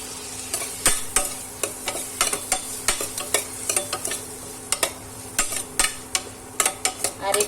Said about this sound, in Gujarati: આ રીતના આપણે ધીમે ધીમે હલાવવાનું છે, એકદમ ટમેટું મસ્ત થઈ જાય ત્યાં સુધી।